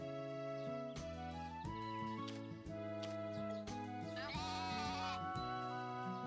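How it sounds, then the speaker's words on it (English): Sheep bleat repeatedly in the farming game Story of Seasons A Wonderful Life, loud wavering calls layered over cheerful looping background music, one after another with no talking. "Not so much about the sheep being loud"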